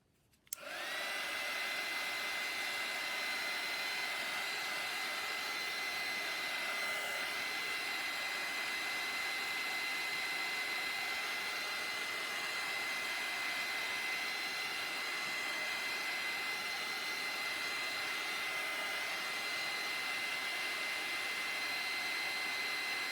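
A hair dryer starts abruptly and runs at a constant, loud whoosh for over twenty seconds, drying tape on a zipper pouch, with no talking.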